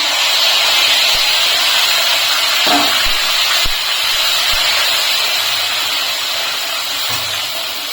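A paste of tomato, ginger and green chili sizzles in hot oil tempered with bay leaf and whole garam masala, a loud, steady frying hiss with a few soft knocks and clicks underneath.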